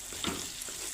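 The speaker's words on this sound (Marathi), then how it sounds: "बेसन पीठ पण आपण चांगलं परतून घेऊया तेलामध्ये" Gram flour (besan) sautés in hot oil with a soft, brief sizzle and a faint stirring scrape, quiet and close with no voices.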